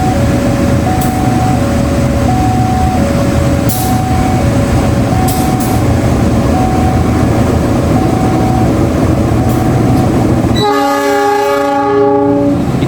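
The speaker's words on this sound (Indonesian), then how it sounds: "sebentar lagi akan masuk di jalur 1 stasiun Tasikmalaya kereta api Malabar" The Malabar train pulls into platform 1 at Tasikmalaya station with a loud, steady rumble of wheels and cars. A rhythmic two-tone warning chime repeats over it before the sound shifts to a sustained, multi-toned horn.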